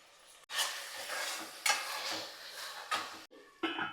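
Tomato masala paste with salt and turmeric frying in a pan while being stirred; a steady close sizzle with scraping spoon strokes and brief clinks against the pan, no talk.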